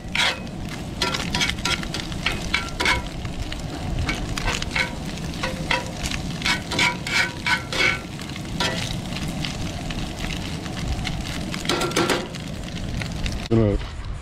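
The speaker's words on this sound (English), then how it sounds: "Good old fashioned bacon and eggs. Made in a iron skillet." Bacon and eggs fry in an iron skillet with a steady crackling sizzle, broken by sharper pops and scraping clinks throughout, while people talk nearby.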